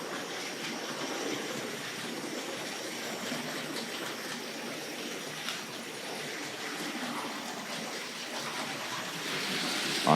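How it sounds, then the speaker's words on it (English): A Tri-ang R.59 tank locomotive, an OO gauge model train pulling R.563 bogie bolster wagons, runs with a steady, faint whirring rumble that holds evenly throughout with no talk. "So we'll get that double O train running,"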